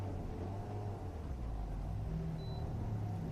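Mazda Miata ND2 at an autocross event at a fairgrounds, steady low engine rumble heard from a distance, continuous and droning without clear revs or passes.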